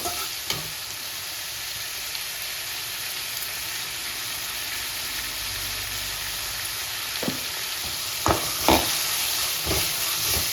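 Brinjal and tomatoes fry for brinjal thokku, a steady oily sizzle and hiss running throughout, with a few clinks of stirring near the end and no talking.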